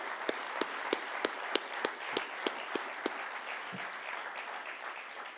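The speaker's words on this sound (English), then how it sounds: "request everyone to give a big round of applause to the team which has enabled it" Applause for the team at the Meesho Limited stock listing ceremony is faint and thin. Distinct, evenly spaced claps stand out about three times a second over a soft background wash, then fade toward the end.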